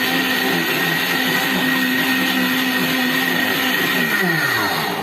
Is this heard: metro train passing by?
no